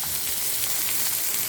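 Fish frying on a flat iron tawa, home-style village cooking in rainy weather, gives a steady, close sizzle of crackling oil with no break and no voices.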